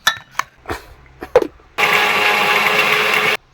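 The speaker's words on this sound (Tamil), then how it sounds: "மிக்சியில் போட்டு ஒரு அடி அடிச்சு" A mixer grinder blends watermelon and grapes with a little ginger into juice: a few light knocks and clatters, then a loud, steady high-pitched whir running for under two seconds before cutting off abruptly.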